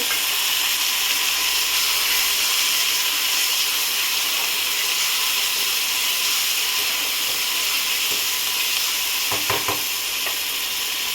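Ginger garlic paste and turmeric fry in a hot pan for a village-style prawn curry, a loud, steady sizzle filling the whole stretch, with a few brief scraping stirs near the end and no talking.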